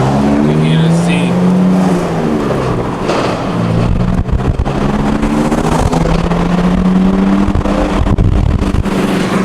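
BMW Z car engine accelerating on a drive to a car meet, a loud rising and falling engine note heard from inside or near the car, with people talking over it.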